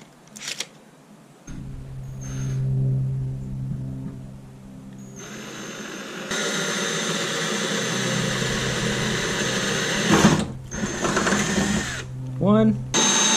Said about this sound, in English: I'm going to mark and measure, measure and mark where I want to drill for my rivnuts